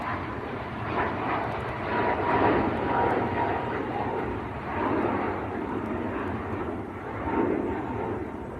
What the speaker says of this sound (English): This is a 737 MAX 8.